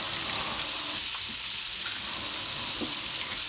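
Steady, crackling sizzle of chicken gizzards frying in a skillet, with a few faint stirring clinks underneath the constant hiss.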